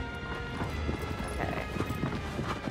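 Horse galloping in the video game Shadow of the Colossus, a steady run of hoofbeats at close range with game ambience beneath, continuous through the short stretch.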